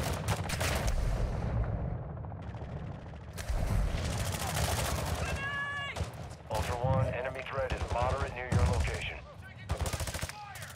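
Gunfire in the Call of Duty Warzone 2.0 DMZ video game at the Koschei Complex, with rapid automatic bursts and single shots, loud and close, while players talk over it.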